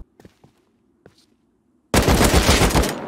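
Sudden loud burst of rapid automatic gunfire in the survival game Rust, bursting in after a few quiet clicks and footsteps and continuing densely to the end.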